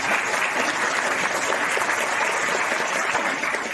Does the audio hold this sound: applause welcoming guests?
yes